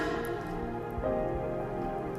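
Steady rain patters on a surface during an outdoor worship gathering, a constant close hiss with no voices, broken only by a soft thump midway.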